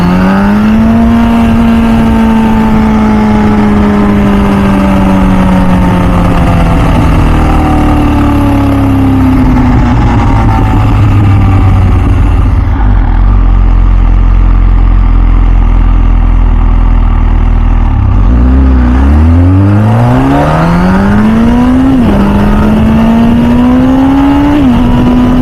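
An MV Agusta F4 Senna motorcycle engine running loud and close, rising and falling through revs, dropping to idle and then revving up sharply again, with no talk.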